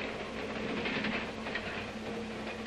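A moving mail train from a 1950s railroad training film, heard as a steady loud rumble and hiss of rolling cars with faint rhythmic clatter, continuous and without talk.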